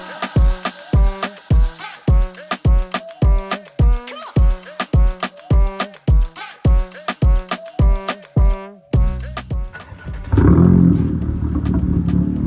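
An Audi with loud exhaust blasts downhill at full throttle on a mountain touge road, a rapid series of sharp, loud pulses and crackles up close, then a sustained roar of rushing wind and engine at the end.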